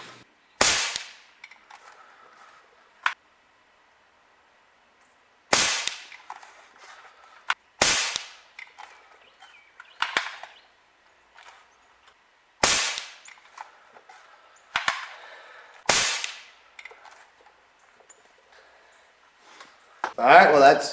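Umarex NXG APX air pistol firing pellets at a target: a series of about nine sharp, loud cracks spaced a couple of seconds apart, each followed by brief rustling handling noise between shots.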